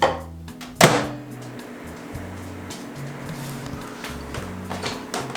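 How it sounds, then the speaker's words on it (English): A microwave oven hums steadily, with a sharp thunk near the start and faint clicks over the running drone. "How long do you microwave for? 30 seconds and a total of 2 minutes."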